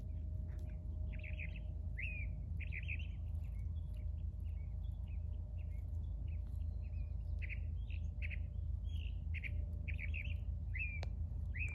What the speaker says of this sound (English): you can hear the beautiful birds in the back